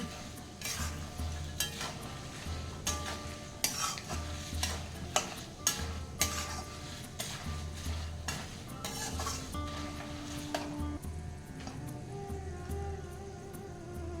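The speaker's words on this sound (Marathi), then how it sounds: "हे सर्व मसाले चांगल्या प्रकारे मिक्स करून घ्यायचे" Spices being stirred and mixed into a poha chiwada filling in a pan, with repeated scraping and stirring strokes over a steady low sizzle, close and moderately loud, no talking.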